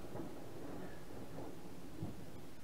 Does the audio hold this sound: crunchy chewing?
no